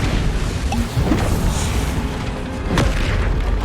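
A Confringo spell explosion and other spellcasting in Hogwarts Legacy, a loud continuous booming rumble with a few sharper bursts, without voices.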